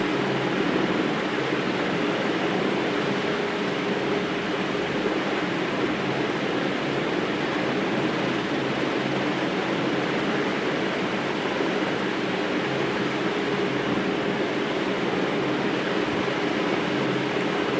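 Sweet wheat flour bonda batter deep frying in hot oil: a continuous, even, dense sizzling hiss that holds steady throughout at fairly high volume, with no speech.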